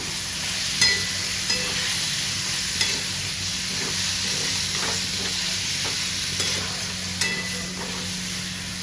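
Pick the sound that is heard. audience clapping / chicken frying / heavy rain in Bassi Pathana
chicken frying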